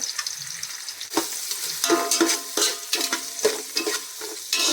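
Sliced onions fry in a pan for tomato rice with a lively crackling sizzle, broken by repeated stirring scrapes and clacks of a spatula. Nobody speaks.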